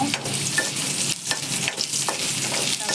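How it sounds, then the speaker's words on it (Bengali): Chili frying with onion and potatoes in a pan, a continuous close sizzle broken by repeated scraping stirs of a spoon, with no talk. "মরিচটা আমি পেঁয়াজের সাথে ভেজে নেব সব আমি আলুটা ভেজে নেব"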